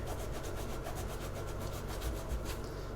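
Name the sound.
scrubbing a synthetic shoe clean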